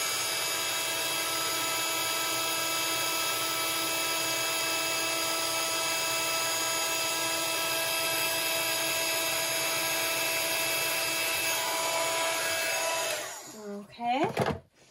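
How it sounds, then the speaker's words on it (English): A heat gun melting embossing powder on a paper-craft stamp background, a loud steady high-pitched whirring blow that runs continuously for about thirteen seconds before being switched off and winding down. "Just quickly heat that up. Again, just using your heat gun."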